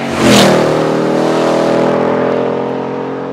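A Ford Mustang GT 5.0 V8 convertible revs up hard, its loud, close engine note swelling quickly then holding a rich, sustained roar that eases slightly toward the end.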